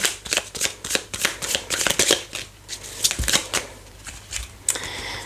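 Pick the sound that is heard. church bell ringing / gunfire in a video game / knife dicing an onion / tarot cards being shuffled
tarot cards being shuffled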